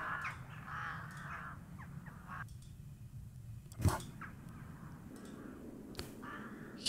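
Crows cawing in the horror video game Darkness Under My Bed, a few harsh calls over a low droning ambience, with one sharper burst standing out near the middle.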